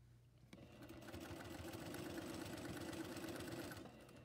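A sewing machine hums in a short steady run as it tacks down a facing on an islander-style shirt, rising after half a second and easing off near the end, close and alone.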